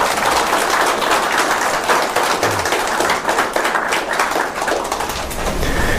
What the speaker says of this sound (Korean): 박수 한번 치도 돼?